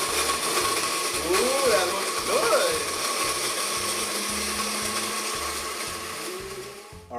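Blender motor whirring steadily as it purees ghost chili, with a few short voice exclamations over the start; the grinding continues evenly until it cuts off at the end.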